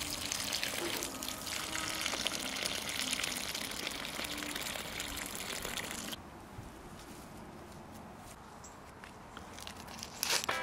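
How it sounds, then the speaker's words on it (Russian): Water poured onto the soil around newly planted strawberry runners, a steady rushing splash over crinkly noise that runs loud for about six seconds, then drops to a quieter trickle before a short burst at the end. "Присыпаем грунтом растения со всех сторон и еще раз поливаем водой."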